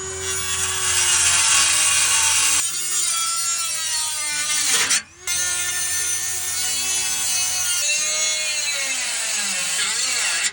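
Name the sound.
cutting the lower valance of a BMW E30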